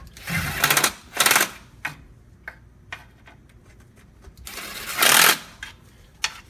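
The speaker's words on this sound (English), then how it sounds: "What I'm going to use at this point is a 1/4" impact, and we'll just snug them down for now." A 1/4-inch impact wrench snugs the pan bolts on a Ford 4R70W transmission: two short rattling bursts close together, scattered clicks, then a third louder burst, all close up with no talk.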